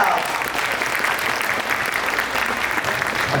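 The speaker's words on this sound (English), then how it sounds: "A big round of applause for Abigail." A round of applause for Abigail from an audience at a speaking event, a steady, fairly close wash of many hands clapping that continues evenly throughout, with faint voices mixed in.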